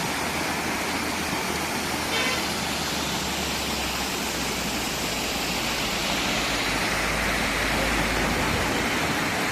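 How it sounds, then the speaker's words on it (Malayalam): A forest waterfall near Malakkappara on the Valparai route, a continuous dense rushing roar of falling water, steady and fairly loud with no talk. "ഒരു വെള്ളച്ചാട്ടം."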